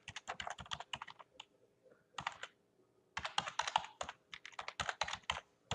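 Clattering computer-keyboard keystrokes come in quick bursts, pausing briefly mid-way and again before a dense final flurry, close and clear with no voice.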